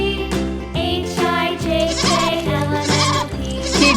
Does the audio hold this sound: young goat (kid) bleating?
yes